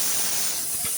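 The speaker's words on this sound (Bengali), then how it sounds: "নাড়াচাড়া করলে ভেজে নিব।" Polao rice frying in a pot being stirred in a home kitchen: a steady broad hiss and sizzle throughout the short moment, close and fairly loud, with a faint scrape near the end.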